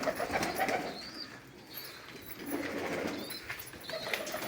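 Soft pigeon cooing repeats quietly at close range in a loft of fancy pigeons, with faint wing flutters and a low background hush.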